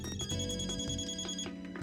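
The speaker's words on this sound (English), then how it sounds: "I heard a cell phone vibrating on one of the desks" In a video game, a ringing cell phone on a desk plays a bright, repeating tonal ring pattern with steady pulses. It is loud and clear throughout, with no talking.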